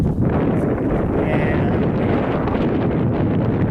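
Strong wind roars steadily at a canyon rim, buffeting the microphone in a loud, unbroken rush that drowns out any other detail.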